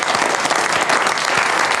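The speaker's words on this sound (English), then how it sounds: "give a round of applause to Nick Tony, of course, Jess Harris." Loud, steady audience applause during a studio show, dense clapping filling the room continuously with a few louder claps standing out, no voices on top.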